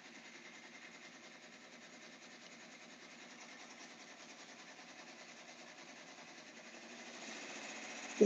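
A computerized embroidery machine stitches custom children's shirts with a fast, steady mechanical whirr and needle rhythm, moderately quiet and unbroken, rising slightly near the end with a sharp knock at the close.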